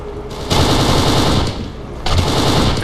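Loud, heavy light machine gun fire in the shooter game Kane & Lynch 2, sustained rapid bursts with a short break in the middle, no voices.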